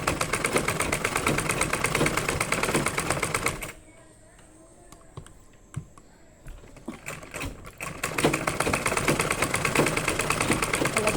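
An electric sewing machine stitches a gathered cotton blouse sleeve in rapid, even chatter, stopping for a few seconds of quiet with light handling noises before running steadily again.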